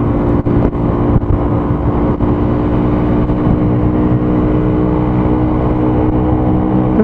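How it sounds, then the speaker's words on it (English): A 2015 Honda GROM's small single-cylinder engine thumps along steadily while riding, a close, continuous putter with light wind rush and no talking. "The little single cylinder thumping along, not too loud, kind of cool."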